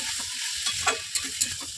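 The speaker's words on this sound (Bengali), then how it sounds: "ঢাকা তুলে নিয়ে আবার নাড়ছি" Tomatoes frying in a pan are stirred with a utensil, giving a steady sizzle broken by a few sharp scraping strokes close by, with no talking.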